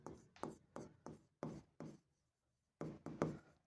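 Pen writing a working note on paper for an accounting problem, a series of close, soft scratchy strokes in short rhythmic bursts with a brief pause, no talk.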